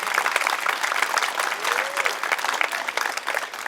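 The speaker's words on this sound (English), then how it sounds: "A round of applause there for Mahesh, please." An audience claps warmly after a performance on an Indian drum at a community concert, a steady burst of applause at moderate distance with a few voices murmuring underneath.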